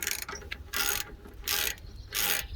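An 18mm socket on a ratchet backs out the rear brake bolts during parking brake shoe replacement on a Range Rover 3.6 TDV8, giving three bursts of bright, close ratcheting clicks separated by short pauses, with no talk.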